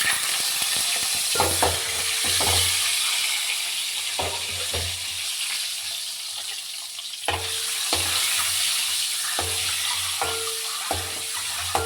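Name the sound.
eggs frying in hot oil with turmeric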